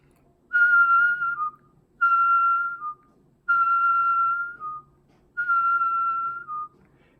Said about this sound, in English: Inflate and do the normal whistle and then deflate.